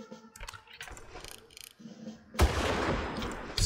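An enemy grenadier in the video game Far Cry fires, with a sudden loud burst of gunfire and explosive noise after scattered quieter mechanical clicks and movement.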